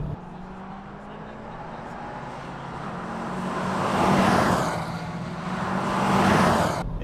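A 2019 Subaru WRX STI S209 driving fast on a racetrack, heard as a steady loud engine and road roar that swells twice as the car accelerates, continuous from inside the car.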